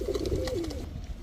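Pigeons kept for racing and high flying coo close by, with a soft, rolling coo that rises and falls once over a low background hum.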